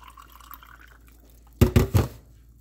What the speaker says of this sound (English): I'm gonna get myself some water.